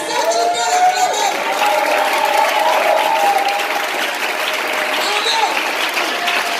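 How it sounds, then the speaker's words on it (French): A church congregation bursts into loud, sustained applause and cheering, a dense wall of clapping with raised voices and whoops running steadily throughout. "Est-ce que tu peux l'acclamer?"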